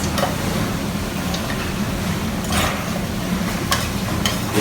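Lamb curry with turmeric and curry powder being stirred in a pan, a dense low sizzle beneath intermittent scraping and tapping of a utensil against the pan, close and loud with no voices.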